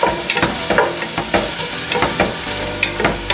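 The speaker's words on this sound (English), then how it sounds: "we go ahead and add in our onion. I'm gonna stir." Onion frying in warm oil for vegetable fried rice, stirred with a utensil: a steady loud sizzle with repeated scraping strokes through the pan, no voices.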